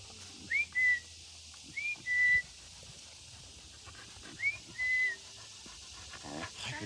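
A person whistles three times to call a dog, each call a short rising note followed by a longer held tone, spaced apart and fairly clear over a quiet outdoor background.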